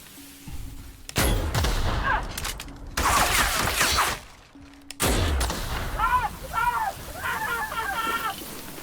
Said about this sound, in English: Grenade launcher, totally worth it. Kicks ass and makes messes.